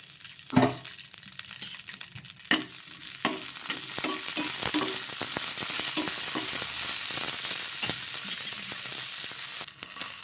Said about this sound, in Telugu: కారానికి తగ్గట్టు పచ్చిమిర్చి వేసుకున్న తర్వాత ఇందులోకి కొద్దిగా ఆయిల్ అనేది వేసుకొని మగ్గించుకుందాము